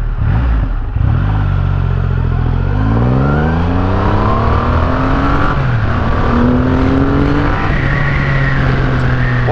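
A high-end motorcycle in road mode accelerates hard, its engine note climbing steeply through several gear changes, loud and close, with the pitch dropping briefly at each shift before rising again.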